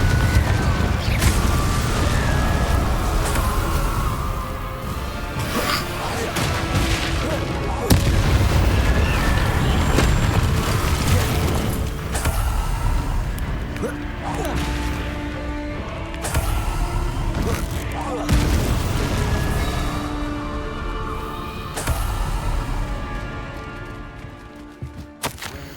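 Confringo spell explosions in Hogwarts Legacy, a video game, booming repeatedly amid dense crashing and rumbling game effects, loud and continuous throughout with no talk.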